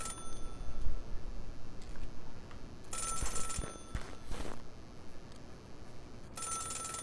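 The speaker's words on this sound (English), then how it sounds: "you might as well pick up the phone" Telephone ringing in the video game Celeste, two bright electronic ring bursts a few seconds apart over a low ambient game background, with no talk.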